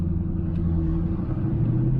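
Steady low exhaust drone from a 2000 Ford Mustang Cobra R, heard from inside the car while driving, a continuous loud rumble with a firm low hum that holds evenly throughout.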